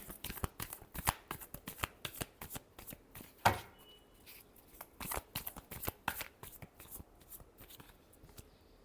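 A deck of tarot cards being shuffled close up, with a rapid, uneven run of crisp flicks and slaps that continues throughout at a soft, steady level.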